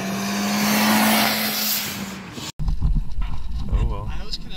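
A 2016 V6 Camaro on a race track, its engine droning loud and steady before a brief cutout, then rough, uneven mechanical noise at close range.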